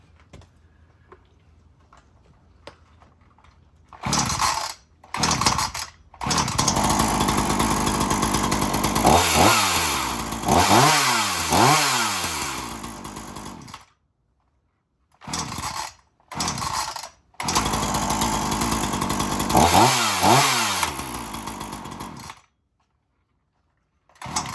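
Several chainsaws cold starting and running ahead of the 2025 season: bursts of pull-start sputter, then sustained loud two-stroke engine running with revving rises and falls, cut off by short silences between starts.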